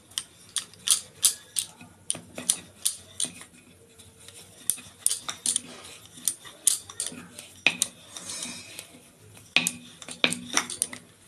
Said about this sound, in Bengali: দেখো এই আটাটারে বেলছি।